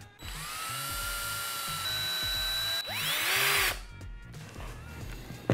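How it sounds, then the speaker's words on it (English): A power drill whines steadily for several seconds, its pitch rising briefly near the end as the bit bites through a soft foam ball, then winds down. "So we're just gonna use this to drill the hole in."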